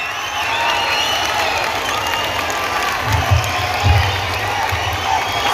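Audience at a school Independence Day celebration in India applauding and cheering, a steady wash of clapping with shouts and whoops rising in bursts, loud and sustained throughout.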